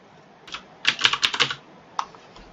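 Someone types on a computer keyboard, entering text in a design program: a short burst of quick, close key clicks with a few isolated taps before and after, in a quiet room.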